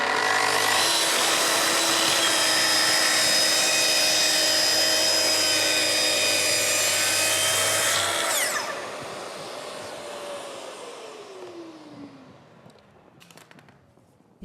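A Festool saw on a guide rail, with its housing closed and dust extraction attached, cuts mineral material with a loud, steady whine for about eight seconds, then the motor spins down and fades out.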